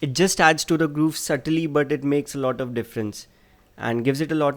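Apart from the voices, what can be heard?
None of the usual background noises is heard.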